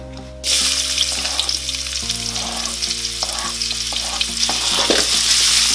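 Onions dropped into hot refined oil set off a sudden loud, crackling sizzle that continues strongly, with faint background hum tones and occasional stirring sounds, no speech.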